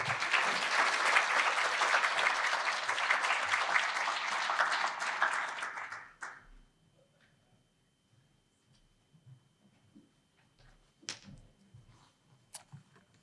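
Audience at a scholarship luncheon applauds warmly to welcome a student speaker, a dense steady round of clapping for about six seconds that fades out, leaving quiet room noise and a few stray sounds.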